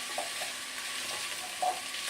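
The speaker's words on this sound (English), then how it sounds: "So just give that a stir around." A spoon stirs red pepper and sweet potato soup in a pot, giving a steady soft sizzling hiss with a few faint scrapes and knocks from the spoon.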